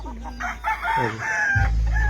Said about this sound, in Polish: i tu karmi je te koguty